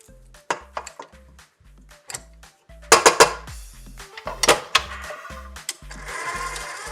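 Thick choux pastry paste being beaten and scraped in a pot, with a run of sharp clinks and knocks of the utensil against the pan, some louder clattering bursts in the middle, heard up close with no talking.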